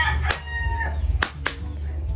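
A rooster crowing in a bedroom at home, with several loud, close bursts of crowing spread through the moment and some clucking between them.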